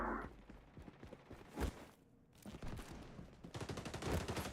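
Gunfire in an online shooter game: faint, rapid cracks of repeated shots in quick bursts, separated by a short lull.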